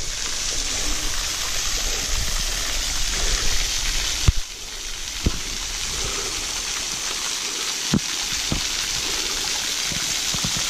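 Steady rushing water from a waterfall and stream on a hiking trail near LA, a constant dense wash with a few faint knocks and rustles and quiet voices in the background.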